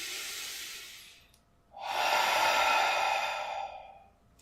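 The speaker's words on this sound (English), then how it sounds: "Just breathing in deeply in through your nose and breathing out through your mouth." Slow, deep breathing for a breathing exercise, a softer inhale through the nose followed by a louder, longer airy exhale through the mouth, very close and alone.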